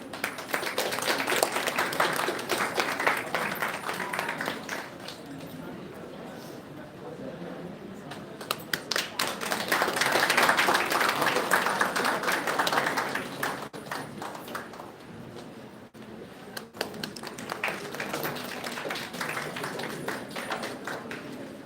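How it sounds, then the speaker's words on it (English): Audience applause for a keynote speaker at a university seminar, sustained clapping from a large room that swells, dips and rises again, with some voices underneath. "Please give a huge round of applause."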